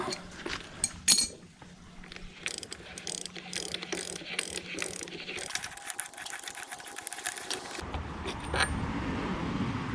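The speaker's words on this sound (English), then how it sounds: "So just put the tool in there and loosen the freewheel up." A freewheel removal tool works loose the freewheel on an electric bike's rear wheel, with close mechanical ratcheting, clicking and whirring that shifts in pitch and texture partway through, steady and loud with no talking.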